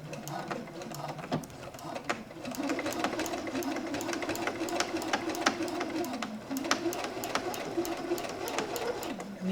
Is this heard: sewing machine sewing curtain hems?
yes